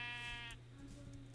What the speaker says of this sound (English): oh, lots of sheep.